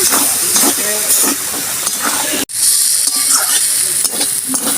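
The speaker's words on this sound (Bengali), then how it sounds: "ঝাল লঙ্কার গুঁড়ো অল্প দেব ভালো করে এবার আমি কষবো" Chilli powder and spices for vegetarian ghugni sauté in a hot pan: a loud, steady sizzle and hiss with scraping stir strokes, briefly cut off for a moment midway, then the frying resumes.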